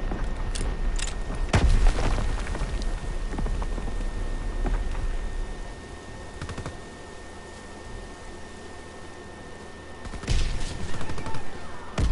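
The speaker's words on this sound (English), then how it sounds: "Incoming enemy artillery. Get to cover." Enemy artillery explosions in a Call of Duty game come as deep booms and rumbling blasts over a constant rain-like crackle of gunfire and debris, with a heavy burst early on and another late.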